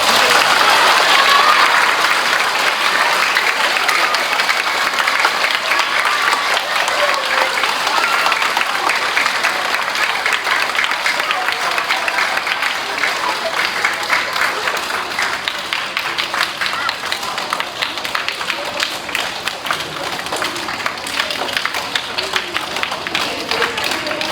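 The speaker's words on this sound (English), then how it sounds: "let's give them a round of applause." Sustained audience applause at a fourth grade graduation ceremony, dense steady clapping that holds for over twenty seconds and thins slightly toward the end, with faint voices mixed in.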